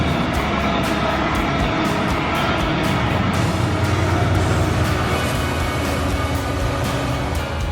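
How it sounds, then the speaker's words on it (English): Road traffic on a main road beside the Conisbrough railway station platform makes a constant rushing roar of passing vehicles, swelling slightly midway and fairly close, with no voices over it. "so there's a lot of traffic noise."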